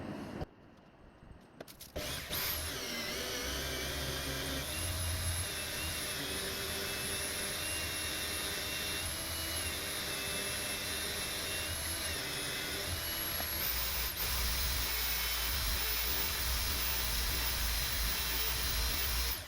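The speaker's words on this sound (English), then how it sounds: "I would like to clean up the knife first, polish it nicely" Knife blade being polished before sharpening, a loud continuous whirring machine hiss with a steady high whine that starts abruptly and runs unbroken.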